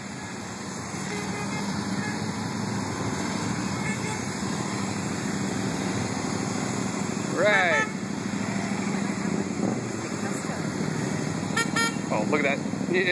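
A parade of Can-Am Spyder three-wheel motorcycles rolls past on a road in Cuba, Missouri, with steady engine drone, a few horn toots and people chatting nearby.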